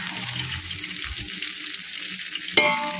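Two large onions with curry leaves frying in hot oil in a pan for chicken pulimunchi, a steady close sizzle with a sharp metallic clink near the end.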